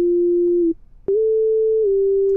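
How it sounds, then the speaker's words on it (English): Synth lead built from a plain sine wave with glide, for a trap beat: a clean sustained tone breaks off briefly, then slides up into a slightly higher held note and eases back down. "It's basically a sine wave and it has glide on it."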